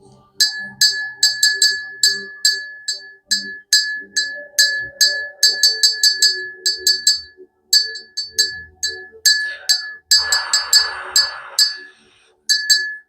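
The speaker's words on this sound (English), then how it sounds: "let's go to ring the bell" Small bell struck again and again in quick irregular runs, each bright ring decaying briefly, loud and close, with a rustling scrape partway through and no voices.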